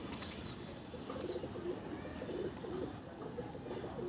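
Delhi pigeons cooing in a loft, a faint repeated series of soft coos at an even rhythm over quiet background noise, with no talking.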